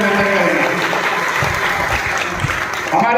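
Loud, sustained applause from an audience at a public inauguration event welcoming a member of parliament, dense clapping throughout with some crowd noise.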